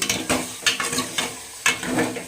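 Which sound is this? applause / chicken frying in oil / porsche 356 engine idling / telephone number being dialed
chicken frying in oil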